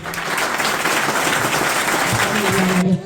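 Steady applause from a crowd, dense and continuous for a few seconds before it drops off, with a faint tone near the end.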